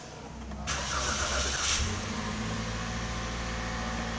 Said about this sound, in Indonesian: ini dia saat penyalaan start awal